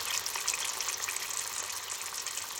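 A pan heats on a homemade biogas-fueled stove, giving a soft, steady frying hiss with a watery sizzling texture, fairly faint and continuous with no talking.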